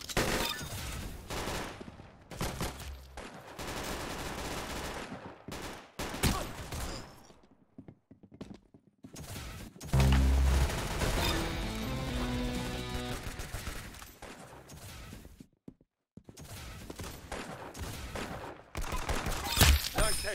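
Roblox gunfire rattles in rapid bursts and single loud shots, broken by short silences, with game music and effects mixed in and a voice talking briefly.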